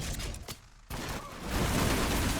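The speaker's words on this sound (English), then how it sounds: "start shooting these guys down" Rapid gunfire crackles in the Warhammer 40000 Battlesector strategy game during an Orks versus Blood Angels tournament match, with dense bursts and a few sharp reports that swell into a loud continuous barrage.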